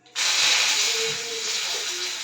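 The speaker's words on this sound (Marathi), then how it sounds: "एक भांडे ठेवलंय तापायला, तूप टाकून घेतलंय, जिरं टाकलंय आणि मोहरी टाकायची थोडीशी" Cumin, mustard seeds and curry leaves hit hot ghee in a pot for a tadka, bursting into a loud, close, steady sizzling hiss that sets in abruptly and holds for the rest of the moment.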